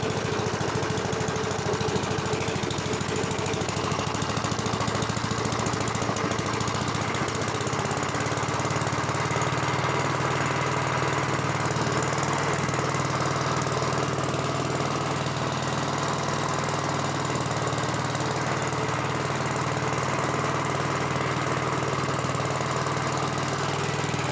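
A 1965 Gravely walk-behind tractor engine runs continuously, a loud, rough, droning putter with knocking vibration that holds steady throughout, close by, with no talk.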